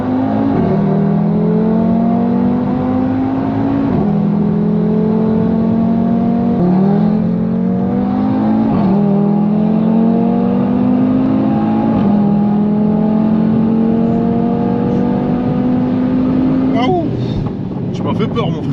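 An Audi TT RS Stage 2 with a 2.5-litre five-cylinder engine, rated 510 horsepower, loud from inside the cabin as it accelerates hard through several rising gear pulls with brief dips at each shift.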